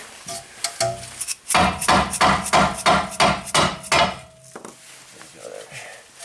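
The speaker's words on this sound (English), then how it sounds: "Plastic hammer." A series of about ten sharp plastic hammer blows strike a Nissan Rogue ball joint in quick, steady rhythm, with a few lighter taps before and after.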